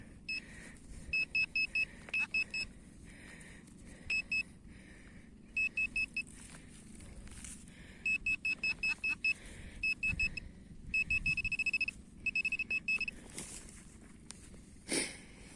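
Simplex+ metal detector giving a steady, stable signal tone in repeated short bursts, several beeps in quick groups over about fifteen seconds, close and clear above faint background rustle during a dig for a World War I button.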